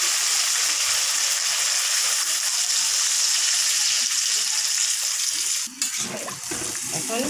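Masala for a rohu fish curry sizzles loudly in hot oil, a steady broadband hiss throughout; near the end the sizzle briefly drops and churns as water is added, then bubbles and spits unevenly.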